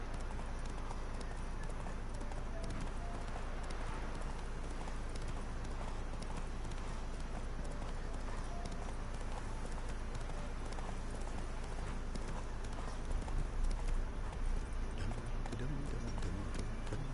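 Hooves clip-clop steadily as a horse is ridden in the Witcher 3 game, with a rhythmic gait under a dense game soundscape and a brief louder stretch near the end.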